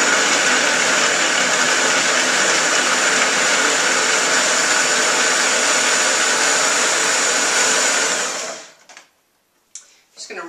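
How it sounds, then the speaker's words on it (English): A food processor whirs loudly as it pulses and chops raw butternut squash into rice-sized bits. The motor runs as one steady high-pitched whine for about eight seconds, then cuts out, leaving a few brief clatters. "we are going to just pulse this until it gets down to sort of rice size as the blade spins through and chops it up"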